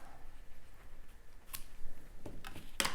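Scissors snip through paper in a quiet craft setting, a few sharp, brief cuts near the end against faint background.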